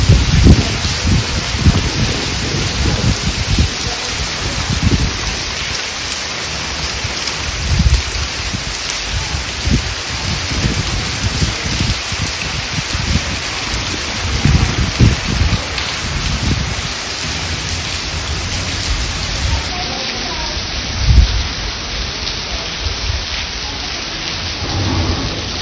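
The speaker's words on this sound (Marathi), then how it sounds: "पाऊस आला ना." Steady rain pours down during a thunderstorm in the evening, with low rumbles of thunder rolling through at intervals, loud and close, heavy hiss of rainfall throughout and no voices.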